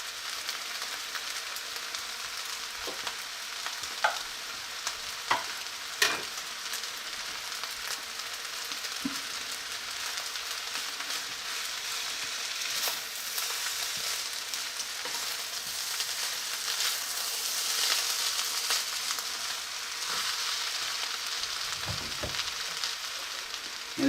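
Fried rice with freshly added green onions sizzles in a pan in a continuous, fairly quiet hiss, broken by occasional light clicks and scrapes of a spatula.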